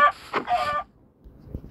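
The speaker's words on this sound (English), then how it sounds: "Let's get this chicken." Minecraft chicken clucking, a few short, close, nasal bursts in quick succession, then near silence with a faint thump.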